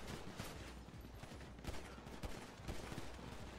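Rapid bursts of video game gunfire crackle continuously, dense and loud, with sharper shots punctuating the steady volley.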